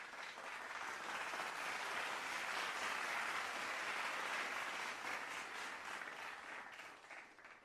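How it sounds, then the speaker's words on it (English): An online audience clapping together from YouTube and Twitch streams, producing a dense, echoing wash of applause that holds steady for several seconds before tapering off at the end. "We had people on YouTube and Twitch clapping at the same time. That's why you heard echoing clapping."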